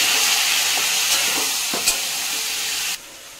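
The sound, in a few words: spice paste frying in refined oil with water for ghugni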